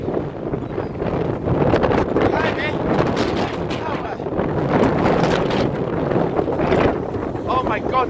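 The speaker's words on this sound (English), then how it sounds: "It's windy." Strong wind buffets the microphone throughout with a constant loud rumble in Blackpool, while voices speak over it.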